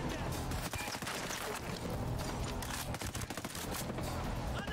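Heavy automatic gunfire rattles continuously in Ghost Recon Breakpoint, a loud, unbroken barrage of overlapping shots with occasional thuds and crashes, while people talk beneath the din.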